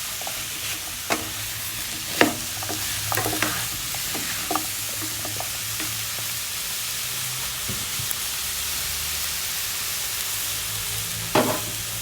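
Sweet and sour chicken being stirred in a hot pan, a constant loud sizzle and hiss with a scattering of sharp spatula scrapes and taps, most of them early on, with no talking.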